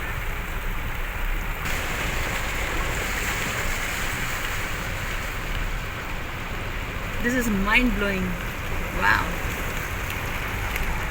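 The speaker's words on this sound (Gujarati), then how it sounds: "Extremely heavy rain." Extremely heavy rain pours down over a flooded open ground in Ahmedabad, a steady dense hiss from start to finish, while a person exclaims in amazement partway through.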